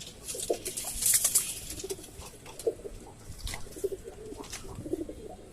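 Pigeons cooing in a clay dovecote during hot weather, soft repeated low coos from several birds close by, with light fluttering and scratching around them.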